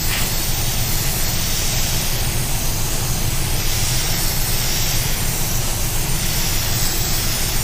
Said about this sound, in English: get used to the gun before you start spraying,